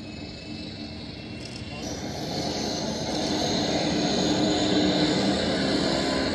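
A P-3C four-engine patrol aircraft runs its engines at the Atsugi spring air festival. The steady turboprop drone swells louder as it builds, with a faint voice briefly in the background.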